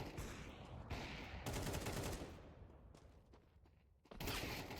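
Gunfire in Counter-Strike on the Dust 2 map, including a shot fired through a wall: dense bursts of loud shots fill most of the stretch, ease off into a quieter lull, then return sharply at the end.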